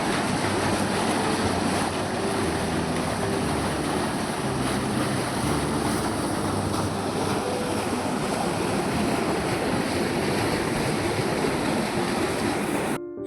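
Water from paddy fields flowing in a rural village: a loud, steady rushing roar that continues without a break, with some wind noise on the microphone.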